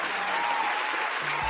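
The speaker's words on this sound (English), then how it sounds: "And an applause." Steady applause fills the whole short stretch, an even wash of clapping from a crowd with no single claps standing out, and no one speaks over it.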